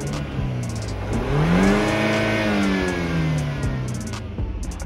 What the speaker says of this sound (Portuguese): quando você coloca no modo esporte, você sente mais o ronco do carro